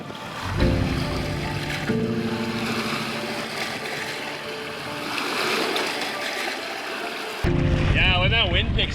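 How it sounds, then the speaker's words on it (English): Headwind rushes over Sucker Lake in Temagami, producing a steady roaring buffet with water sloshing beneath it, loud and continuous, while someone talks over the noise. "When that wind picks up, she moves, eh? Headwinds on Sucker Lake."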